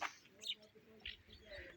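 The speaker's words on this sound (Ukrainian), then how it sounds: "нас тут багато птиць" Small birds chirp by a lake, giving faint, scattered high tweets against quiet outdoor ambience, with a person speaking softly nearby.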